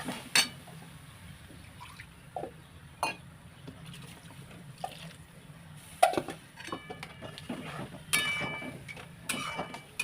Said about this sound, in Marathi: आता यामध्ये थोडंसं मी पाणी घालते जे आपण मिक्सरचं भांडं घेतलं त्यामध्येच पाणी घालून